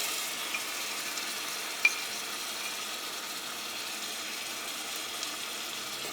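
Chicken pieces frying in oil with coriander powder and salt for a stew give a faint, steady hiss throughout, with one brief small clink partway through and no voices.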